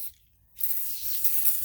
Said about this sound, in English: all I do is just spray it on